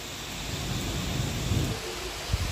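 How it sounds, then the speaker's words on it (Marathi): Heavy rain pouring during a thunderstorm with strong wind, a dense steady wash of noise with a low rumble swelling near the end. "खूप जोराचा पाऊस येत आहे."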